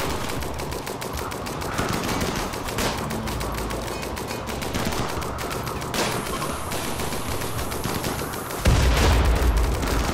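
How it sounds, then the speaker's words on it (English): Automatic turrets in the video game RimWorld fire in rapid, continuous bursts, a dense loud rattle of gunfire that keeps going with a heavier boom near the end. "The new turrets."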